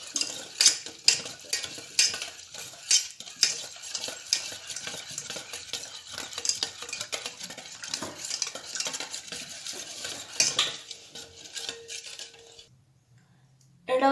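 A spoon or whisk mixes chocolate mousse batter in a bowl. The close, rapid scraping and tapping strokes carry on for about twelve seconds, then stop into near silence.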